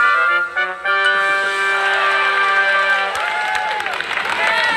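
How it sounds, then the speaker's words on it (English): Children clap and cheer as a crowd in a cartoon sound effect for Thomas and Friends, a continuous bright roar of voices and clapping over a musical background, loud and steady for the whole stretch. "The children clapped and cheered."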